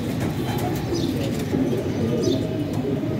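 Prized fancy pigeons in a loft cooing, soft low continuous murmuring coos layered together at close range with faint chirps, no talking.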